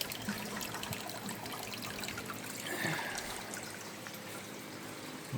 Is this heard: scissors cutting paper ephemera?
no